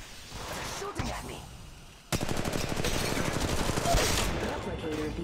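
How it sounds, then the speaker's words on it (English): Rapid machine-gun bursts and gunfire in a sci-fi shooter video game run loud and nearly continuous, broken by a brief gap, then a dense sustained volley follows. "Shooting at me."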